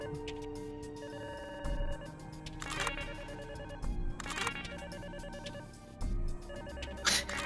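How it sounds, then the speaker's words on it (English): A telephone ringing in the video game Hacktag, an electronic ringtone repeating in short regular bursts over quiet background music, heard alone with no talk. "He doesn't answer the phone."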